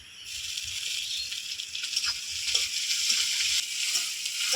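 Onions fried light red in oil in a pan, with ginger-garlic paste added, for a village-style raw-banana kofta curry: a steady, close, bright sizzle that hisses on throughout with small crackles and no talking.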